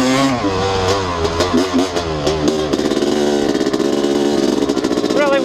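A Honda CR250 two-stroke dirt bike engine revs hard and close, with several sharp throttle blips that give way to a sustained buzzing roar.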